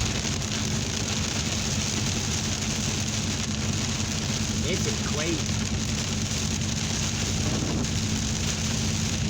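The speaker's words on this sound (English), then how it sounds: "It's raining more and raining." Heavy rain pours down steadily in a dense, unbroken hiss, with a brief voice speaking faintly beneath the downpour.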